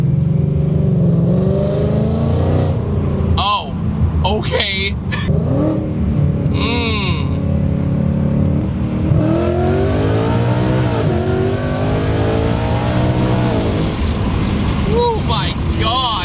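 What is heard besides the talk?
Ford Mustang with long-tube headers revving on dyno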